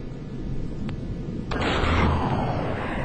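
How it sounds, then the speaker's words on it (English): An underwater explosion in the video game X-COM: Terror from the Deep goes off as a sudden burst over a rumbling game backdrop, with a sharp click shortly before and a lingering roar afterward, loud and without talking. "It makes a satisfying little explosion when you do that."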